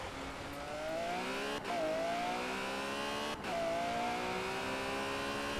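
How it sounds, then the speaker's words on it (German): A Ferrari engine in Forza Horizon 4 revs hard and climbs through the gears, its pitch rising steadily with two sharp shifts along the way. It is heard up close and alone, with no talk. "Ein tolles Auto, der Ferrari."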